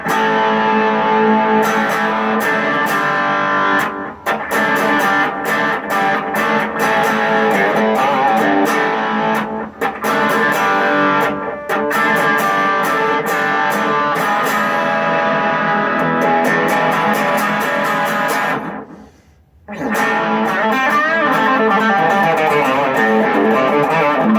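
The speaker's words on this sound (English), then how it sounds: "Here's the full-on humbucker, which is pretty aggressive, which is fun for when you want that heavy." A custom Epiphone LP100 electric guitar on its Seymour Duncan bridge humbucker, heavily distorted, plays aggressive chords and riffs, thick and saturated, with brief pauses between phrases and no talking.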